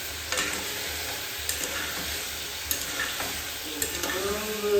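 Cauliflower sautéing in a pan makes a steady loud sizzle, with the scrape and clink of a spoon stirring through it every second or so.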